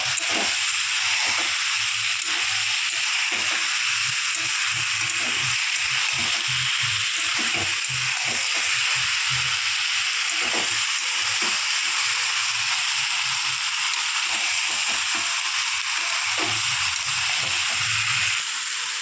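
Pre-fried potatoes cooking in hot spiced oil in a pan for an unripe jackfruit and prawn curry, giving a steady, close, continuous sizzle and hiss throughout with no one talking.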